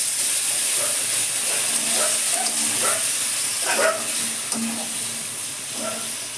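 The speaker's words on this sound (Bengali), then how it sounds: "লাউটা আমার ভাজা হয়ে যাচ্ছে মশলাগুলো গুলে রেখেছিলাম ঢেলে দিলাম" Bottle gourd frying with salt and poured-in spice paste in a pan makes a steady, loud sizzle and hiss, broken by repeated scraping stirs of a utensil, all close up and continuous throughout.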